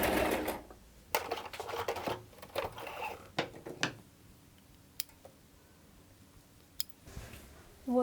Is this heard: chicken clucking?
no